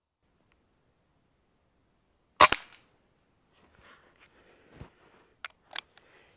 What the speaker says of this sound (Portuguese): quando eu atirei nesta hora naquele alvo lá, exatamente lá pegou o chumbinho